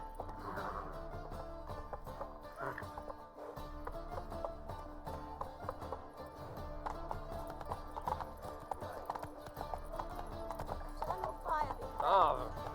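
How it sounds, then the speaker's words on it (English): Hoofbeats of the horse Roach clip-clop in a steady galloping rhythm in The Witcher 3, with a brief whinny, continuing under game music and occasional character speech. "Move it! Run, Roach."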